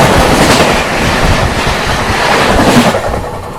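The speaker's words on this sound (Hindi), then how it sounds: "अपनी ट्रेन की क्रॉसिंग हो रही है, क्या जबरदस्त क्रॉसिंग हो रही है।" Two trains crossing at speed, the Samarsata Express passing the Charlapalli Darbhanga Express, with a loud continuous roar and rattle of wheels and carriages rushing close by.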